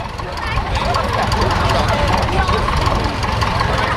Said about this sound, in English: Engine started, just moving along there now.